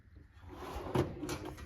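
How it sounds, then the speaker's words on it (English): Drawers of a tool chest in a workshop slide open and shut, two or three sharp metallic clunks and rattles close by, with no talking. "When I open these drawers, they're not all cluttered up."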